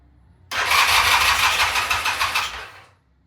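An engine fires up for its first start with a sudden loud catch, runs roughly and close for about two seconds, then winds down and dies away into quiet.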